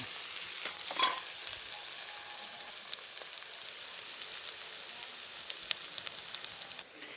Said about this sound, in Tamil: நல்லா செந்நிறமாக பொரியணும் நல்லா பொரிஞ்சு வரணும்